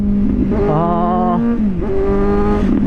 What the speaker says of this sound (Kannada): ಆ ಕ್ಲಚ್ ಹಿಡಿದು ರೆವ್ ಮ್ಯಾಚ್ ಮಾಡಿ ಡೌನ್ ಶಿಫ್ಟ್ ಮಾಡೋ ಫೀಲೇ ಬೇರೆ ನೋಡಿ